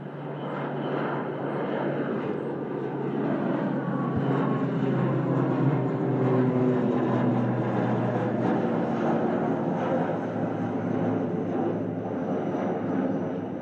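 An ATR turboprop airliner departs Manchester Airport for Dublin, a broad sustained engine roar with a shifting propeller whine that swells toward the middle and lingers, heard from outdoors at a distance without speech.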